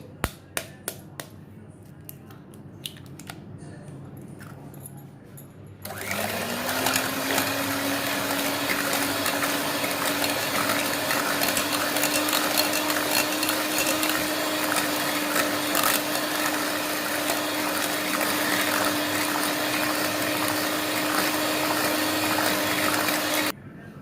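An electric mixer beats vanilla pastry batter, switching on after a quiet few seconds into a loud, steady motor whine that holds continuously to the end, with faint rattling of the beaters in the bowl.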